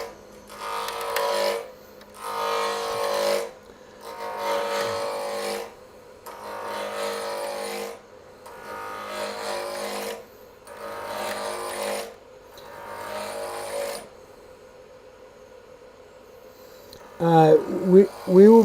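A wood lathe spins a turning blank at 3,000 RPM for a small lidded acorn box, giving a close whirring rasp in repeated bursts with short pauses between them, then a brief clatter at the end.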